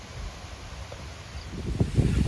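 Strong wind buffets the microphone outdoors in cool-season countryside, a constant broadband roar that swells and gusts louder toward the end, with no speech.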